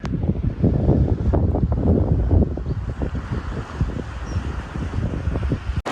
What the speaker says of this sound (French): bien sûr il y a du vent, mais bon on est en bord de mer